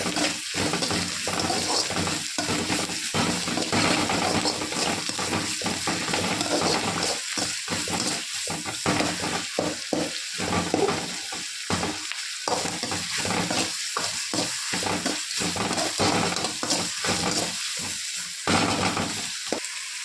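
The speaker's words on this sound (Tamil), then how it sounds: "வெங்காயம் தக்காளி வதங்கிறதுக்காக நம்ம வந்து தேவையான அளவு உப்பு ஆட் பண்ணிக்கிறோம்." Onions and tomatoes with salt sauté in a pan for macaroni pasta, a steady close sizzle broken by brisk, rhythmic stirring and scraping strokes throughout, with no talking.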